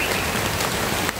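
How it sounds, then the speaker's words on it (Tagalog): Heavy rain pours down outdoors in a dense, even hiss of drops striking surfaces. It is loud and unbroken throughout, with no voices. "Ito yung mahirap talaga pag umuulan."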